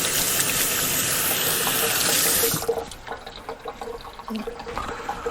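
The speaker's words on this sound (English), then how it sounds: "And quickly rinse my hands." Kitchen tap water gushes loudly and steadily into a sink while hands are rinsed, then cuts off abruptly about halfway through, leaving quieter clattering and handling sounds nearby.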